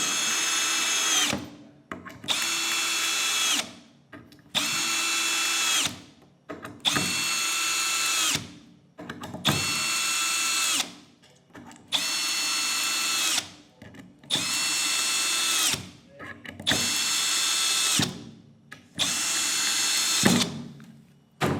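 A Milwaukee M12 Fuel drill driver runs in about nine repeated bursts, each a loud high whine lasting a couple of seconds and separated by short gaps, close up with no talk.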